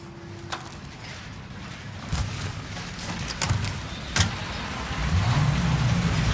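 A car rolls along in the video game Mafia Definitive Edition, a steady low engine drone and road rumble with a few clicks and knocks, the engine note rising near the end.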